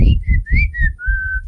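A person whistles a short, wavering tune of a few notes, close and clear, with low background noise underneath.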